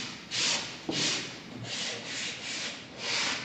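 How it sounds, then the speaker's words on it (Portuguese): Hand sanding of a painted wooden drawer with fine 320-grit sandpaper, a soft steady rasp in repeated back-and-forth strokes, close and quiet, with no talking. "À medida que eu vou lixando"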